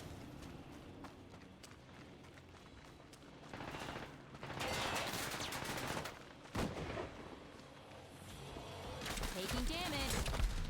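Gunfire in the Combat Champions playtest crackles in rapid bursts with heavier impacts, swelling louder toward the end, mixed with game effects and a voice speaking over it.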